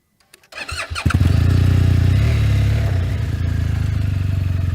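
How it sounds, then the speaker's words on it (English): An adventure motorcycle starts up on a steep, rough dirt downhill, a brief clatter of cranking followed by a loud, steady engine idle close by, with no talking. "I'm going to start the bike up, give myself some momentum, easy on the clutch, easy on the throttle."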